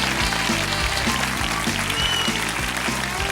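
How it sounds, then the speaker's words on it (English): A studio audience claps steadily at a comedy panel show, a dense wash of applause over a piano playing a bouncy closing tune, with no talk heard. "Don't clap when I'm trying to do the credits"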